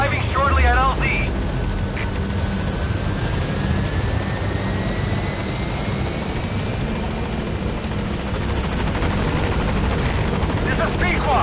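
B-Quad, a helicopter in the video game Metal Gear Solid V, arrives with a steady loud rotor drone and whine that hold throughout, and a brief radio voice sounds at the start and again near the end.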